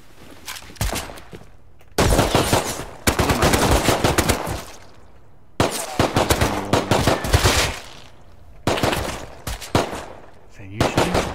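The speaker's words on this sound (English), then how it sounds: "Is that you shooting?" Gunshots in a video game, loud rapid bursts of automatic fire coming in several long volleys, separated by brief quieter gaps, close and dominant.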